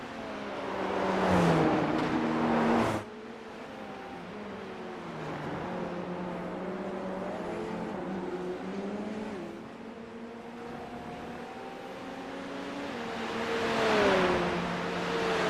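SR10 race cars at Road Atlanta whine past in a pro-am race, engines rising and falling as they go through gears, with a louder pass at the start and another near the end, heard from a distance.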